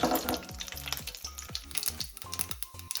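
Onions sizzle and crackle in hot oil after a tempering of mustard seeds and urad dal, with repeated scraping clinks of a spoon against the pan.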